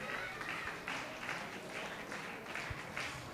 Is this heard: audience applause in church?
yes